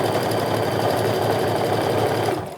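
A sewing machine runs close up in one continuous burst while stitching a tote bag, a rapid even mechanical chatter that slows and stops at the end.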